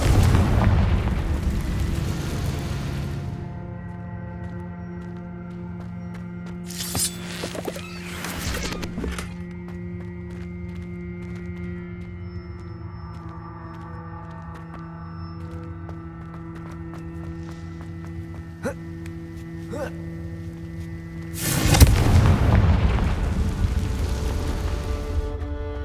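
In the Hogwarts Legacy video game, booming Confringo fire-spell blasts burst out at the start, around the middle and near the end, with sustained musical tones between them.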